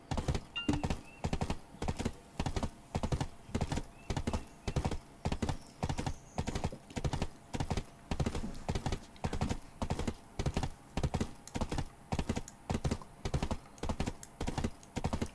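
Horse hooves clip-clopping in the online game Black Desert, a steady walking rhythm of evenly spaced thuds repeating for the whole stretch, close and clear with no talking over it.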